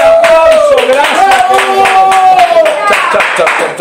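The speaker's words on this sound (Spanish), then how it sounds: "¡Fuerte el aplauso!" Studio audience clapping on a variety show, rhythmic claps sounding under a loud sustained voice and music-like tones, close and energetic throughout.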